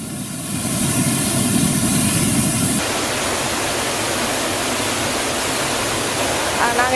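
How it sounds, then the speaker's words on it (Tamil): The Courtallam waterfalls run in flood after heavy rain, giving a loud, continuous roar of rushing water that shifts abruptly in tone partway through and never lets up. "தென்காசி சுற்றுவட்டார பகுதிகளில் பெய்த கனமழையின் காரணமாக குற்றால அருவிகளில் வெள்ளப்பெருக்கு ஏற்பட்டுள்ளது."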